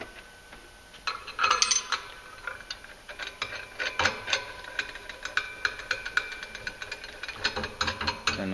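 Tightening a clutch cup by hand on a 2014-15 Polaris Ranger 900 non-EBS during a clutch kit install gives a close sequence of small metallic clicks and ratcheting scrapes. It keeps up steadily at moderate volume, with no talk.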